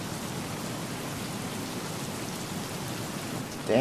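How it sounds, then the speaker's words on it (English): Steady heavy rain in the video game Battlefield Hardline hisses evenly throughout, a dense wash of noise at moderate volume, with a brief sharper sound right at the end. "Damn, it's raining hard."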